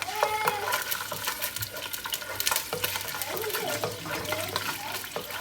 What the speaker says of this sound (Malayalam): ഇതൊന്ന് ജസ്റ്റ് ഒന്ന് ഇളക്കി കൊടുക്കാം കേട്ടോ